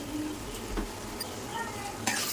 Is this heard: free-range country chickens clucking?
no